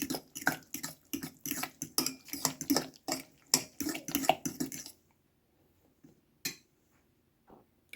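Rapid clinking and scraping of a utensil against a bowl while stirring pancake batter with egg and kefir, a steady rhythmic stirring for about five seconds, then near silence with a couple of faint clicks.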